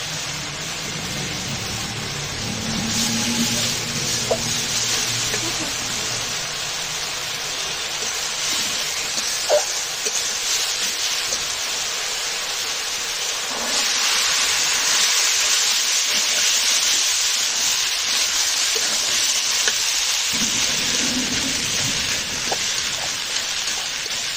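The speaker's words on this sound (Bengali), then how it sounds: "এবার দিয়ে দিব এই যে সেদ্ধ করে রাখা ছোলা।" Boiled chickpeas tipped into spice masala frying in a pan, producing a steady, close hiss of sizzling that runs without a break for over twenty seconds, swelling slightly partway through, with no voices.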